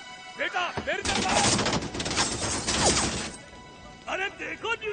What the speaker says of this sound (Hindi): गोली चलाना बंद करो